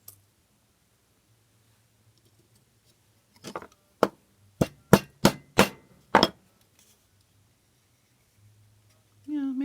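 A hammer strikes the edge of a tin sheet, first with a few soft taps and then with six sharp, ringing metallic blows spaced about half a second apart. A voice begins right at the end.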